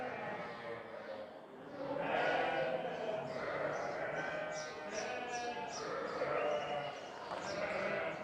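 A flock of Merinolandschaf sheep, rams and lambs bleating repeatedly, overlapping calls near and far, with a steady outdoor background on a breeding farm.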